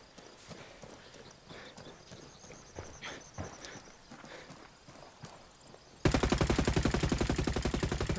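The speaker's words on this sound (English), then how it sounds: "Random gunfire." Automatic gunfire in Ghost Recon Wildlands: quiet scattered in-game sounds, then a loud rapid burst of evenly spaced shots over the last two seconds.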